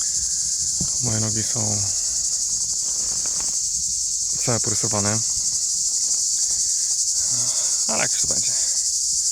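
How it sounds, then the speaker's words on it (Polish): Cicadas buzz loud and steady along the GR 11 trail in the Pyrenees, a continuous high drone filling the whole stretch while someone talks intermittently over it. "Cykady są wielkie swoją drogą. Nie wiedziałem, że aż tak."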